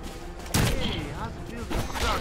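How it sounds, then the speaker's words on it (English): Gunfire in the video game Evil Dead, a loud close blast followed by a couple of lighter shots and thuds, with game sounds and some voice in the background. "I need to quit shooting. There's probably a boss I gotta fight, and I'm just wasting ammo."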